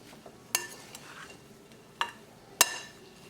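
Spoon or utensil scraping in a bowl while stirring dry spices such as pomegranate powder and cumin seed, with three sharp clinks against the bowl amid quiet, soft rustling.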